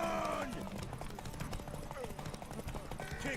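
In The Witcher 3: Wild Hunt, horse hooves clatter in a quick, uneven gallop, loud and close, with a brief horse-like cry at the start and end.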